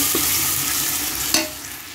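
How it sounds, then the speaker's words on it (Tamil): Biryani masala sautéing in hot oil for mutton dum biryani, cooked until the oil separates: a steady, close frying sizzle with stirring, and one sharp utensil clink near the end. "எண்ணெய் விடுற வரைக்கும் இது நல்லா வதக்குங்க"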